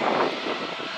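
An aircraft engine roars at Manchester Airport, a steady broad rumbling drone from a plane at moderate distance, swelling briefly then holding level, no voices.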